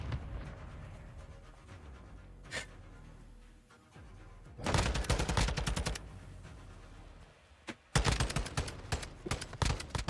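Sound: gunfire in the video game Call of Duty

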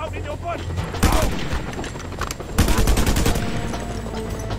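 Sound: gunfire in the video game Just Cause 2

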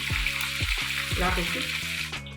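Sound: chicken leg pieces frying in oil

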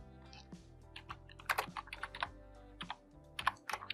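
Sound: typing on a computer keyboard while writing HTML code

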